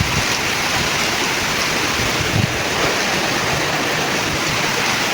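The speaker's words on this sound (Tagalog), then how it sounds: "Kanina pang umaga umuulan na." Heavy rain hisses steadily outdoors with gusting wind, a loud, unbroken wash of noise rumbling at the microphone.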